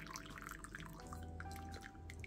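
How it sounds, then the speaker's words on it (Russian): Herb syrup drips through a strainer, a quiet scatter of small, irregular drips and trickles heard close up. "И даем воде как следует стечь"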